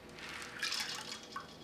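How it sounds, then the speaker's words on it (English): Water runs into a container holding soursop seeds, a soft splashing and trickling pour at low volume with brief drips. "All you gotta do is just fill it up with some water."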